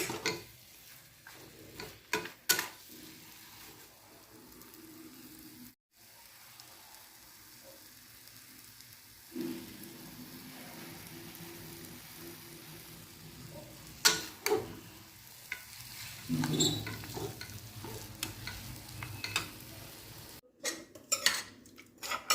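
A spoon stirring dry fruit semolina (rava) in a pan: intermittent scraping and clinking against metal with a soft sizzle, close and moderately quiet, in uneven bursts and pauses.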